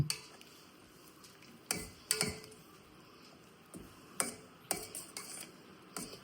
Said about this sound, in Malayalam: ഇനി നമുക്ക് ഈ പൂ ഇട്ട് കൊടുക്കാം നമുക്കൊന്ന് ഇളക്കി കൊടുക്കാം